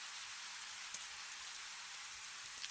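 Soft, steady rain falling on stone, a faint continuous hiss with scattered light drop taps, calm and unbroken with no voices.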